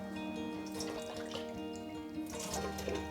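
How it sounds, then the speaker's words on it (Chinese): Dried shiitake mushrooms, about 15 grams, are rinsed under a running tap, giving a steady, soft stream of water splashing in a sink throughout. "在泡香菇之前，要记得将香菇先冲洗一遍，"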